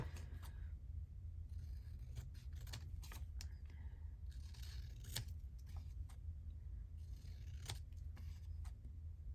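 Scissors trim paper for a handmade window flip, giving a scattering of crisp, close snips at uneven intervals over a steady low background hum.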